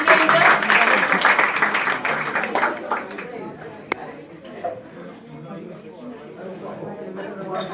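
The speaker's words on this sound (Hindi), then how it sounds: "जोरदार तालियों से स्वागत कीजिए इनका" An audience at a Bihar Board topper award ceremony at a coaching centre in Karsar claps loudly for the first few seconds. The clapping then thins out as a voice talks over the crowd noise.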